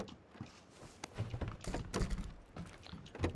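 Doors thud shut one after another inside a buildings in a multiplayer shooter game, several dull thunks at irregular intervals against quiet game background.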